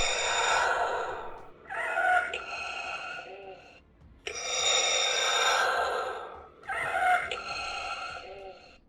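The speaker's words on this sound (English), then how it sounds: "you get the injured/dying Vader sound effect instead." A Hasbro Star Wars Black Series electronic Darth Vader toy helmet plays its injured, dying breathing effect: labored, raspy mechanical breathing in slow cycles, a strained electronic wheeze rising and falling about three times, close and fairly loud.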